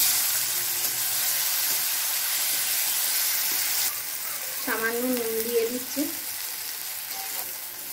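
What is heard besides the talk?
chopped tomato frying in oil with cumin and dried chilli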